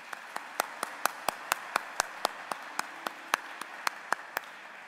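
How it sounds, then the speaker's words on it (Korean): A church congregation claps in steady unison, about twenty sharp, evenly spaced claps in an even rhythm, sounding faint and somewhat distant. "우리 하나님 앞에 감사와 영광의 박수 한번 올리겠습니다."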